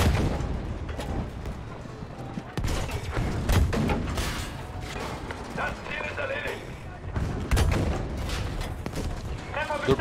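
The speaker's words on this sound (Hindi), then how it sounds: "जो टैंक है वहाँ, दैट इज हिटिंग अस." A tank firing at the player in Battlefield V, with heavy booms and bursts of gunfire in a battle scene, partly under people commenting over the gameplay.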